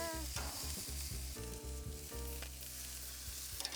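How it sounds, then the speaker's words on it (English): Pork chops sear on a hot grill over medium-high heat, giving a loud, steady sizzle that runs unbroken for about four seconds, with a tonal background bed beneath it. "You want that really nice initial sear, and then we're gonna close the lid."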